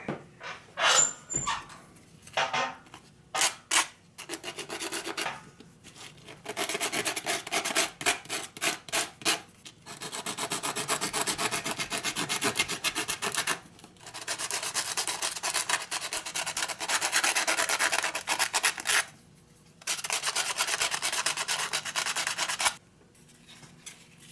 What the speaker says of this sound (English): just file all these edges, make sure they're nice and smooth